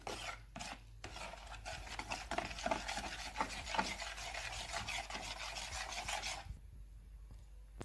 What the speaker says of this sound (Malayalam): ഇനി നമുക്ക് ഇത് നന്നായിട്ടൊന്ന് മിക്സ് ചെയ്ത് കൊടുക്കാം.